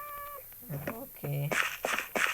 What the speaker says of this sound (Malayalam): നമ്മളിവിടെ പൂച്ചയൊക്കെ സ്പോണാവുന്നു കേട്ടോ.